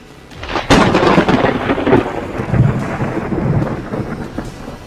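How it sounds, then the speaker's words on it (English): Thunder rumbles and cracks in a sound effect, beginning with a sharp strike and rolling on loudly for several seconds with a rain-like hiss underneath. "And Suku hears lightning crackling down"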